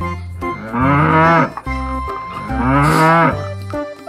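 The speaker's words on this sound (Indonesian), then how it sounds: "ini adalah hewan sapi sapi betina yang biasa diambil susunya" A dairy cow moos twice, long and loud, close up, with a short pause between the calls.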